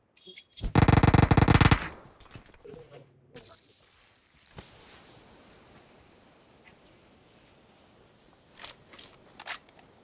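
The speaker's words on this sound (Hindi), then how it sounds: "मशीन गन लेके लगा दबर दबर दबर दबर" Machine gun fire in the BGMI video game, a loud dense burst of rapid automatic shots lasting about a second near the start, followed by quieter game sounds and a few faint later pops.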